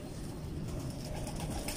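Pigeons coo softly and indistinctly amid a dense, rumbling background of low noise and rustling, with no speech.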